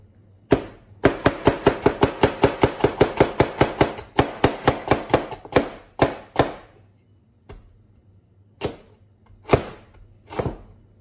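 A heavy Li Ziqi-style cleaver chops through carrots on a board: a fast, steady run of about twenty close, crisp knocks, then a few slower, spaced single chops near the end.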